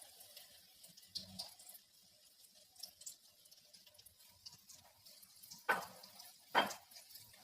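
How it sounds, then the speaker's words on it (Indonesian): Tempeh frying in a pan of oil for sambal kentang, a quiet crackle and sizzle with faint spatters, broken by two sharp louder bursts of sizzling near the end. "Kita goreng setengah matang juga ya"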